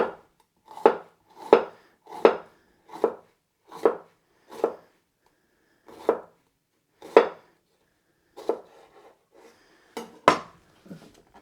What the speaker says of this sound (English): Just make little slices.